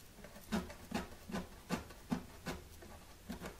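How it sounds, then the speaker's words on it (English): Sandpaper stropped back and forth across the heel of a Martin D-41 acoustic guitar neck during a neck reset, giving soft, evenly spaced rasping strokes, about eight in a row, close and fairly quiet. "I'm going to take this sandpaper and I'm going to come in here and I'm just going to strop right at the very"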